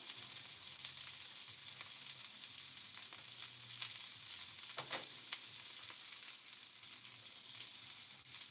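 Vegetables fry on a flat top grill, producing a steady, faint hiss and crackle of sizzling oil with a few slightly sharper pops and scrapes, and no voices.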